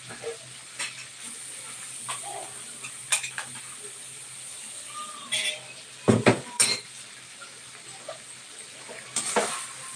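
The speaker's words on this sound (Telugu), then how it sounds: "పచ్చివాసన పోయేంత వరకు జింజర్ గార్లిక్ పేస్ట్ పచ్చివాసన పోయేంత వరకు ఫ్రై చేయాలి." Ginger garlic paste frying in a pan, with a low sizzle beneath intermittent metallic clinks and scrapes of a utensil stirring against the cookware, close and moderately loud.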